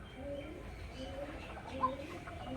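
A single female pigeon coos softly, with repeated low rounded calls in a steady rhythm against faint background noise.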